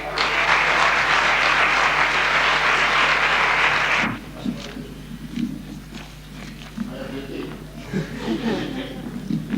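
Audience at a regueifa improvised-verse contest in Vigo applauding two singers, a dense, loud burst of clapping for about four seconds that cuts off abruptly, followed by scattered murmurs, small noises and a voice speaking.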